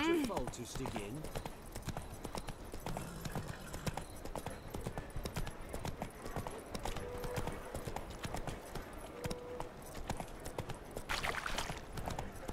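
Roach the horse trots in The Witcher 3: Wild Hunt, with a steady, quick clip-clop of hooves throughout under near-constant talking.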